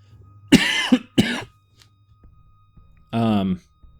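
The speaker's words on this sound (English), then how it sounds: "Excuse my cough" Two sharp coughs in quick succession, close and loud, followed after a pause by a brief voiced sound like a throat being cleared.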